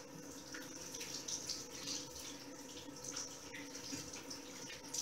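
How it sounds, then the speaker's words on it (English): Hands being rinsed under a running tap, a steady close rush of water splashing into a sink with small shifts in the flow and no voices. "we're going to rinse our hands and get all that dirt off"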